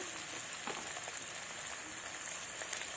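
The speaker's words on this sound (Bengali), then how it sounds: "একই তেলে আমি আলুগুলো ভেজে নেব।" Potatoes frying in hot oil in a home kitchen, a steady crackling sizzle with scattered pops running throughout, close and even, no talk.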